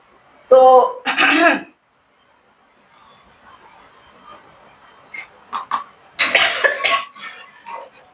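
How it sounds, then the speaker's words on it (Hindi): A woman coughs and clears her throat several times at close range, with bursts early on and again near the end, separated by quiet pauses and light background noise in a home kitchen. "खांसी आई है फ्रेंड्स"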